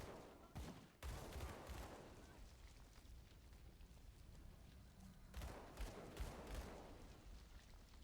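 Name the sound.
gunfire from a gun in video game Grim Dawn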